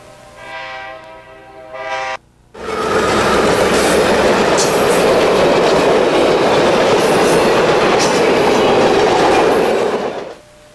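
A passing Northern Express train roars loud and close for about eight seconds after a short, tonal whistle-like blast, with rumbling wheels and clattering rail noise that swells and then cuts off.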